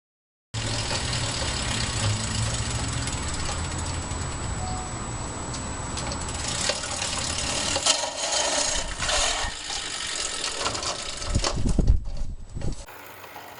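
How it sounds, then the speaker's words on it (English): A manual reel lawn mower is pushed along a driveway and then through grass, a steady whirring clatter of spinning blades that turns rougher and more uneven toward the end, with no talking. "the difference in sound from pushing the mower down the driveway versus the sound as it cuts the grass"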